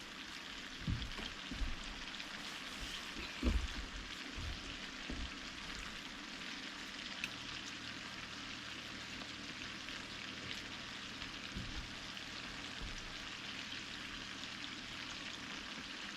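Meatballs frying in a hot cast iron pan, a steady, soft hiss and crackle running throughout, with a few low knocks and bumps near the start.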